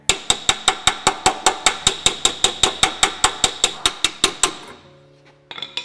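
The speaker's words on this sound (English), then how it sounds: "I'm just gonna planish that little one that we just took out with the, uh, with the nylon there." A nylon hammer planishing a dented metal panel, about twenty crisp, evenly spaced taps in a quick steady rhythm, close and loud, stopping before a faint clatter near the end.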